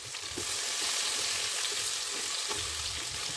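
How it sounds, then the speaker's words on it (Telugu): Masala-coated eggplant pieces frying in oil in a pan, a loud continuous crackling sizzle up close, with faint stirring scrapes and no voices. "వంకాయ ముక్కలు మొత్తాన్ని అందులో వేసుకొని ఆయిల్లో ఒక ఐదారు నిమిషాలు బాగా ఫ్రై చేసుకోవాలి"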